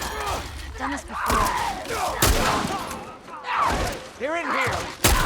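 Gunfire in The Last of Us Part 1 video game, several loud bursts and single shots scattered through chaotic game combat, with voices talking over it.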